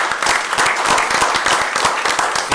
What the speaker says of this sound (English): So I'd like to give you all a hand clap for that.